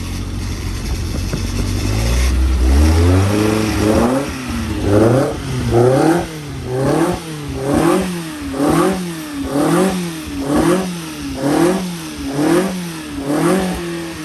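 A Benoy 1200cc engine revs hard and loud, starting with a rising roar and then settling into repeated rhythmic blips, each one climbing and falling about once a second. No one speaks.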